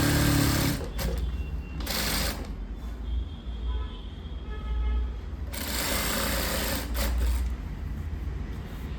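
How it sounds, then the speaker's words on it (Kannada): A sewing machine stitches blouse sleeve lining at a tailoring class, running in two short bursts and then a longer steady whirring run, close, with a low hum underneath. "ಫಸ್ಟೊಂದು ಸ್ಲೀವ್ ಹೊಲಿಗೆ ಹಾಕಿದ್ದೀವಿ"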